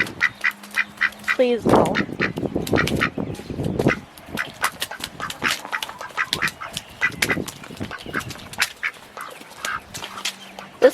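Several friendly ducks quack repeatedly outdoors in spring, loud nasal calls coming in rapid bursts close by, with a person talking briefly between them.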